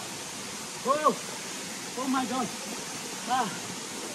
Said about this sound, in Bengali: এই হচ্ছে কংলাক ঝর্ণা